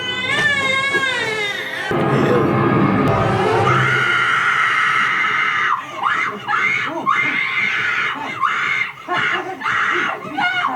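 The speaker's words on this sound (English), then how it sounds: "you really don't touch nobody when they're in a nightmare, like screaming like that" A woman screams in a nightmare scene from the TV drama Lost: a sustained, piercing shriek dominates at first, then gives way to broken, sobbing cries and thuds, loud and close.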